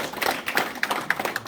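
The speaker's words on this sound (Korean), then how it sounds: "오늘 함께해 주신 네 분에게 힘찬 격려의 박수" An audience claps for four panelists at a forum. The applause comes as brief, close, scattered hand claps that are fairly light and have no voices over them.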